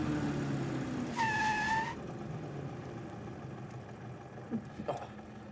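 A 1930s Austin 7, braked on the front wheels with a handbrake on the rears, makes an emergency stop from 30 mph. An engine rumble runs under a brief high squeal, then the car settles to a quiet idle with a few faint knocks.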